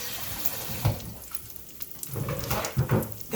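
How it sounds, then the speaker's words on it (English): Running kitchen tap water splashes over hands being washed during cooking, a steady close rush broken by a few louder splashy bursts, with no talking. "Gotta get those hands washed again."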